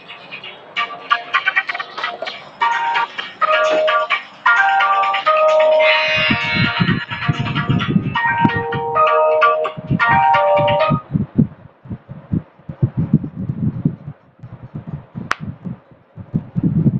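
A phone rings partway through a Hindi maths lesson on profit and loss, a loud, repeating electronic melody with steady beeping tones. It plays for several seconds, then gives way to clicks and handling noise.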